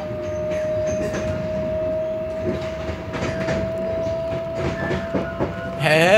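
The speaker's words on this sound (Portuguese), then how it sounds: "Esse trem é bonito, cara." A train passing close by near Victoria Station in London, a steady rumbling roll with a sustained tonal whine and rhythmic clatter throughout, rising into a louder squeal or burst at the end.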